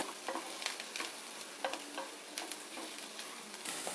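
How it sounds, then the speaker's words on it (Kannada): Onions fry quietly in a pan while being stirred without pause. Quick, close scrapes and clicks of the spoon sit over a faint, steady sizzle, and no voice is heard. "ಸ್ವಲ್ಪ ಫ್ರೈ ಆಗೋವರೆಗೂ ಕರೆಕ್ಟಾಗಿ ಕೈ ಬಿಡದೇನೆ ಇದನ್ನು ಮಿಕ್ಸ್ ಮಾಡ್ತಾ ಇರಬೇಕಾಗುತ್ತೆ"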